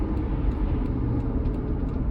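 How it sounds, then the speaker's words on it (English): Steady low road rumble from tires rolling at speed on a Subaru Outback, a constant droning hum heard from inside the moving car with no talking. "Here's some tire noise, but nothing major."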